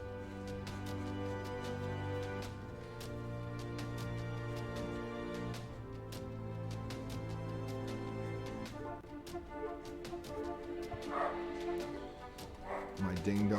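Dogs bark repeatedly at a neighbor's dog, sharp yips and woofs scattered over a steady tonal background, growing more irregular toward the end.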